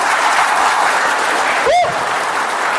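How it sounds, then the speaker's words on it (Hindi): Audience at a live Hindi motivational talk bursts into loud, sustained clapping that fills the hall, with a brief whistle cutting through near the end. "एक बार सबसे पहले आप लोग अपने आप के लिए जोरदार ताली बजा लीजिए"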